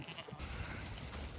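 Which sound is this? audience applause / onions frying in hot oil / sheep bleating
sheep bleating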